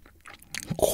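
A Subway sandwich with spicy buldak noodles is bitten and chewed up close, giving a quick series of crisp, crunchy bites that grow louder toward the end.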